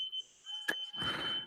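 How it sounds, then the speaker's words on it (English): A steady high electronic tone from a smoke alarm rings through, with a sharp click midway and rustling noise building afterward. "Is that your alarm going off? That's my smoke alarm"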